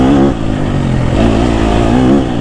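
A KTM 250 SXF four-stroke dirt bike engine revs hard in second gear on a forest trail, a loud, close, steady high-pitched drone that rises and falls slightly with throttle, nothing else over it.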